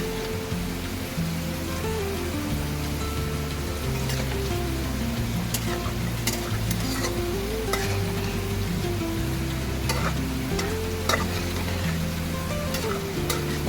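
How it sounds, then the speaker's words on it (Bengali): Biryani gravy with meat masala sautés in a pan with a constant close sizzle and crackle. Scattered stirring clicks sit over steady tonal background music. "দিয়ে এবার একটু ভালো করে কষিয়ে নিই।"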